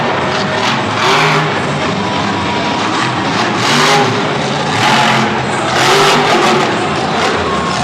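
A Monster Jam Bad Company monster truck performs at a San Diego stadium show, its engine roaring and revving steadily through the whole stretch in loud, repeated surges amid arena noise, with no talking.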